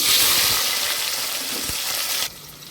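Chopped onions and green chillies frying in a pan for a mixed vegetable curry, a loud close hiss of sizzling oil that holds steady and then drops off sharply near the end.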